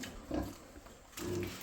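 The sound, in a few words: pigs grunting in a pen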